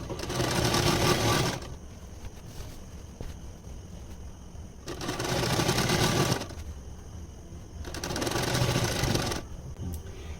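Sewing machine stitching a false border (fall) onto a saree, running in three loud sustained bursts separated by quieter pauses, close up and with no talking.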